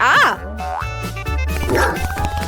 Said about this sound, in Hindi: ओह नहीं, मेरी बॉल गिर गई।